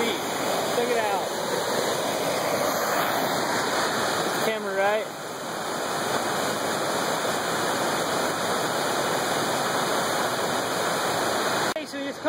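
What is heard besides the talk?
waterfall on a river in Yellowstone National Park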